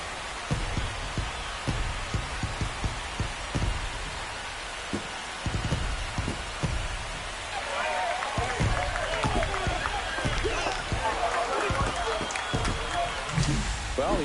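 Crowd roar swells after a solo home run in MLB The Show 25, a sustained broad wash of cheering that builds in the second half, with broadcast commentary talking over it throughout.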